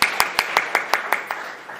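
A conference audience at a policy debate on solar dividends claps to welcome a panelist, a steady run of about ten distinct claps, fairly close.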